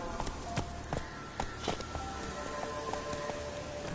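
The horse Roach's hooves clip-clop in a PS4 video game, a steady rhythm of sharp, close footfalls over a faint rain-like background hiss.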